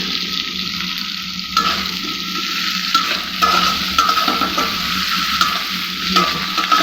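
Green chillies and onion fry with a steady sizzle in a pan, and a spoon scrapes and stirs them in repeated strokes, close and fairly loud.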